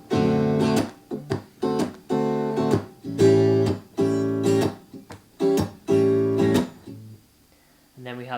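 Guitar strums the second line of a 12-bar blues, a D dominant 7 chord for two bars then back to A for two bars, in short rhythmic shuffle bursts with gaps, alone and fairly close, ending in a brief quieter chord.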